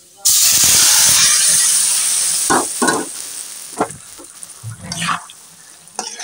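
Mixed vegetables dropped into hot oil for a tempering, bursting into a loud, close sizzle that hisses steadily and then settles, with scattered clinks and stirs of a utensil in the pan.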